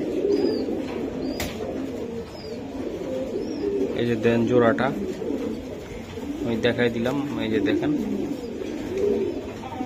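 Racing pigeons coo low and steadily in a loft, nearby and continuous, while people talk over them throughout.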